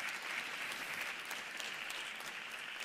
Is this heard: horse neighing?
no